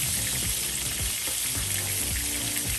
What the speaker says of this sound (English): So what we're going to do now is stir around these onions